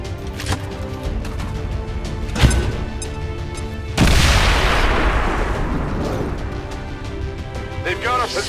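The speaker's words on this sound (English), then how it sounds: "Throw grenade!" A grenade blast in the tactical shooter XCOM 2: War of the Chosen hits loudly at once, then a long roaring debris wash slowly fades while gunfire and voices carry on around it.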